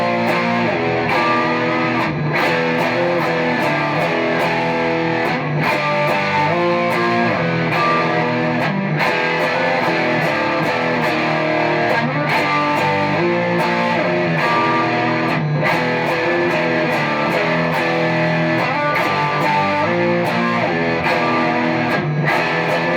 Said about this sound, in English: Let's hear how the pedal sounds with the gain cranked on a single coil guitar.